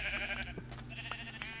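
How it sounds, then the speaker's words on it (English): A sheep bleats in the video game Minecraft, a short nasal call heard close against a steady background. "I didn't even see the sheep."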